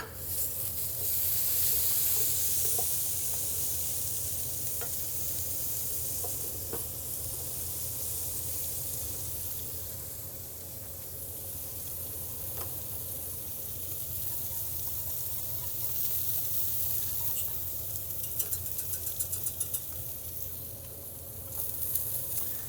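Portobello mushroom caps sear in a hot pan, giving a continuous, moderately loud sizzle and hiss that carries on for a long stretch with faint clicks and small movements near the end.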